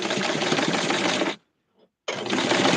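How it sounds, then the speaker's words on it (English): A sewing machine stitches through a doll's bathing suit in two steady, close bursts of rapid mechanical chatter, separated by a short pause of near silence. "So we're going to sew this through."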